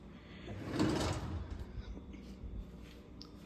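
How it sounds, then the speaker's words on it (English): Kitchen cabinet drawers in an empty apartment sliding open and shut, a fairly close rumbling slide that peaks early and then trails off into quieter handling noise. "Cabinet drawers."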